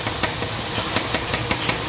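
Boondi, drops of gram flour batter, fry in hot oil with a constant close sizzle and hiss, while soft ladle taps and stirring sounds recur at a steady pace.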